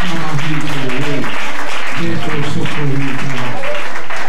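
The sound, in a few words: church congregation applause and acclamations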